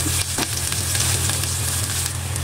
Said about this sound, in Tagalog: So mainit na yung ating oil guys. Lagay ko na ang garlic. Haluin ko muna saglit.